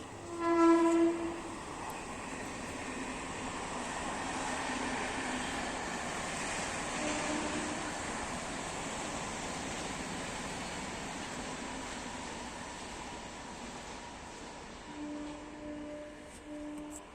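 A train rolls along a rail line right beside a building in Mumbai, a steady, fairly close rumble filling the whole stretch, with horn-like tones near the start and again toward the end.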